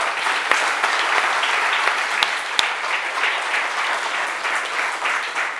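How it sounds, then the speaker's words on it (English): A church congregation applauding during a Baptism Sunday service, a full, sustained round of clapping from many hands with a few sharper claps standing out, fading slightly toward the end. "giving a huge round of applause to the Lord"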